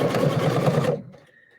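A PFAFF quilt expression 720 sewing machine stitching maroon fabric, a loud, close motorized whirr with a rapid rhythmic pulse that stops abruptly after about a second, leaving a faint hum.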